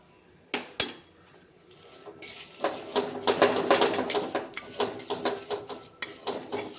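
Lemon pickle being stirred with salt in a pan, a spoon scraping and clinking against the metal in quick repeated knocks, close and fairly loud, with no speech.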